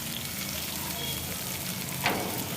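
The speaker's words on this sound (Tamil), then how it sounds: "போட்ட வெங்காயம், வெள்ளைப்பூடு, செத்தல் மிளகாய் எல்லாம் நல்லா வதங்கிட்டு" Onion, garlic and dried red chillies fry in a pan with a dense, even sizzle throughout and one sharper scrape of a stirring spoon near the end; faint talk sits beneath.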